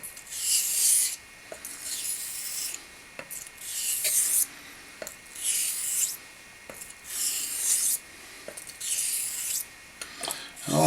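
A straight razor is drawn in repeated honing strokes across a Naniwa whetstone, each stroke a soft, hissing scrape, arriving in an even rhythm of about six passes separated by brief pauses.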